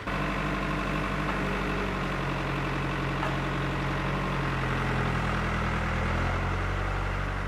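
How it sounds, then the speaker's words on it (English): A tractor engine idles and rumbles steadily up close, its low throbbing shifting slightly in pitch partway through. "Driving the tractor is Dorset Wildlife Trust warden Ian Geddes."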